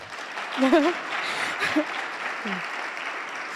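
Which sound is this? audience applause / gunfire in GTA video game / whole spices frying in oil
audience applause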